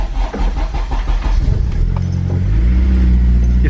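Honda Civic Si with an aftermarket exhaust cranking and firing up close by, the starter whirring briefly before the engine catches into a loud, steady low idle rumble.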